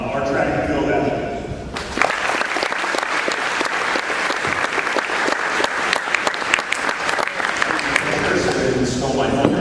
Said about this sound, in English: One more round of applause for the